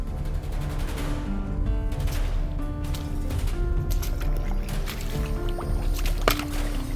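Someone cools off in a river in Apalachicola National Forest on a hot day, with water splashing and sloshing nearby in irregular bursts and sharp slaps over a constant flowing backdrop.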